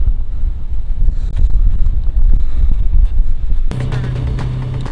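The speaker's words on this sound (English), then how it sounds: "It's windy up here, isn't it?" Strong wind on a hilltop lookout on St. Martin buffets the microphone in a loud, steady low roar, ending with a brief higher hum and rustle.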